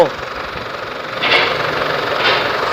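A Chevrolet Colorado truck engine with a faulty turbo runs with a steady mechanical drone, punctuated by two louder hissing, whooshing surges that rise briefly above the idle.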